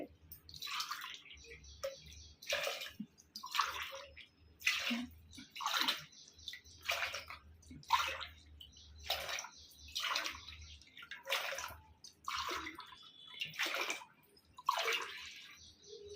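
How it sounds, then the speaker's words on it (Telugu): Water is poured by the glassful into a pot in a series of separate splashing pours, about a dozen short bursts with pauses between, close and fairly quiet. "పది గ్లాసులు నీళ్ళు పోస్తాను"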